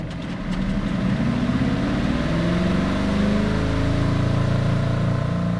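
An RV washing machine spins up, its loud steady motor hum and whir rising in pitch as the drum speeds through the spin cycle, continuous and close.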